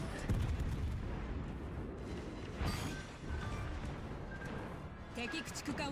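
Gunfire and blasts while shooting an enemy in a Star Wars video game, a dense run of booming shots and crashing impacts under a speaking voice.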